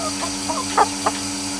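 A few short clucks from a rooster in a village, soft and somewhat distant, over a steady low background hum.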